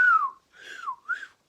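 A person whistles in imitation of Big Rick's whistle: three short, clear swooping tones, with the first falling and the last rising, close and alone with silence between them.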